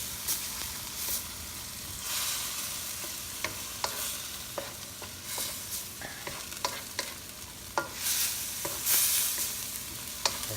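A spatula stirs binagoongan fried rice ingredients with shrimp paste in a hot frying pan, scraping and clicking in an irregular rhythm over a constant sizzle, with no talking.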